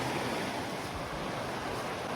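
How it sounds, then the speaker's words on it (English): A mountain creek on the Benton MacKaye Trail near Davenport Gap rushes past close by in a dense, steady broadband wash of flowing water, with no voices. "I've been following this creek for about a mile, and I knew that eventually I would have to cross it."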